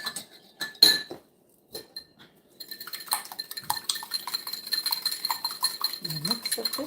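Banana bread batter mixed in a bowl, heard as scattered clinks and scrapes of a utensil against the bowl, sparse at first and then a busier stretch of tapping and scraping, close and fairly quiet.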